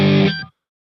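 A short burst of electric guitar through a Headrush pedalboard's white boost, after a tube screamer, rings out loudly, overdriven, then cuts off abruptly after about half a second, leaving silence.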